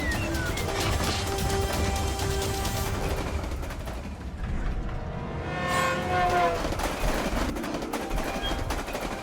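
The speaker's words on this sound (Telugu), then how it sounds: "ముందు ఇంకొక ట్రైన్ వస్తూ ఉందే." A train rushes closer along the tracks in a dramatic animated fantasy scene, its loud, dense rumble and clanking swelling throughout, with a brief dip midway before the roar builds again alongside tonal horn-like whines.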